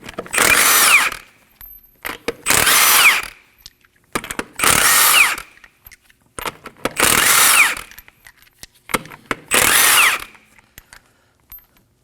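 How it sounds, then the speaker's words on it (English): An impact power tool zips off lug nuts from a 2011-2016 Kia Optima front wheel in five loud bursts of whirring and rattling, separated by short quiet gaps and faint clinks. "Using a 21mm socket, go ahead and remove the lug nuts"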